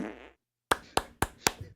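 Fart sound effect: a short buzzy blurt, a pause, then four sharp, evenly spaced popping toots in quick succession, close and fairly quiet.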